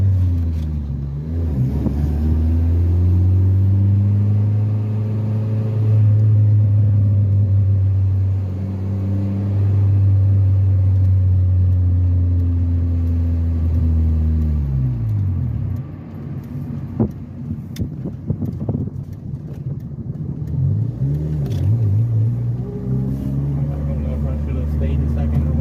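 A manual-transmission car driven by a learner hums steadily, its engine pitch rising and falling as it accelerates and slows, with a sharp dip midway before the motor picks up again.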